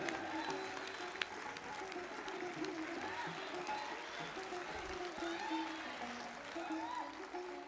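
Applause from the audience at an Indian Republic Day kavi sammelan and mushaira, a steady wash of clapping across the whole stretch, moderately loud, with voices and murmuring mixed in underneath.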